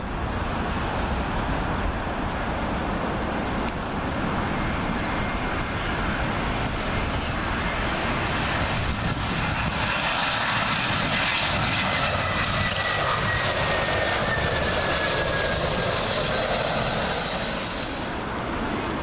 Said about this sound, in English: Next up to arrive, British Airways A320, arriving in from Charles de Gaulle.